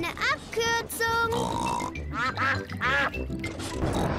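Cartoon ducks from the Peppa Pig series quack in a rapid, fairly loud series of nasal calls, mixed with animated character voices and grunts throughout.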